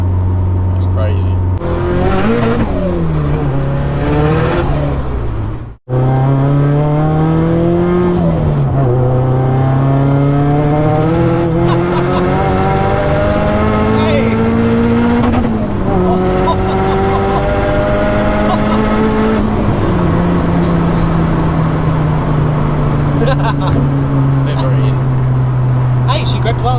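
A Nissan 200SX/240SX with an SR engine and Garrett GTX2867R turbo pulls hard on throttle on wet roads, revving repeatedly through rising gears with a brief cut, loud and close from inside the car while people talk over it.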